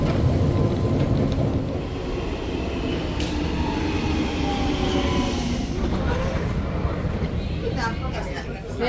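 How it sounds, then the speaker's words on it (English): Inside a moving Helsinki metro train, a steady rumbling roar of wheels and rails fills the cabin, with faint squeals and voices mixed in. "And our first metro train trip."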